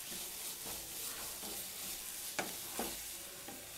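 Onion frying in a pan with ginger garlic paste, stirred while it cooks: a quiet, continuous sizzle with occasional soft scraping strokes of a spoon, no voices.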